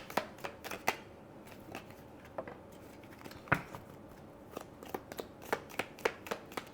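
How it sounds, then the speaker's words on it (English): Tarot cards being shuffled by hand, a rapid series of crisp riffling snaps and flicks, close and fairly quiet, with no talking. "Let's get some more cards out."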